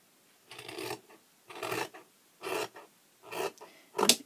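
Scissors or a rotary cutter trimming the edge of patchwork fabric, heard as five short, evenly spaced rasping cuts, close and quiet, with no talking.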